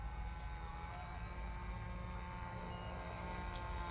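A large electric RC scale helicopter, a black Bell 222 Airwolf replica, flies at an airport, its rotor producing a faint, steady, distant drone throughout.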